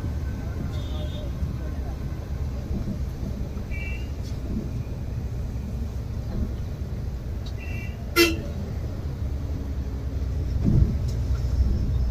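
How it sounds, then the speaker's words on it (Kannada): A horn on a Volvo 9600 luxury bus, too weak for the big bus, toots briefly a couple of times over a steady low traffic rumble, fairly close, with no one speaking. "ಇಷ್ಟು ದೊಡ್ಡ ಬಸ್ಸಿಗೆ ಈ ಹಾರನ್ ಸರಿ ಹೋಗಿಲ್ಲ"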